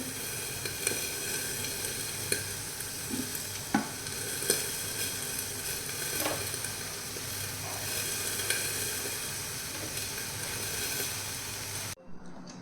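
Prawns fry in a pan for a prawn walnut chutney, giving a steady dense sizzle with a few soft stirring clicks throughout, close and fairly loud, with no talk; the sound cuts off abruptly near the end.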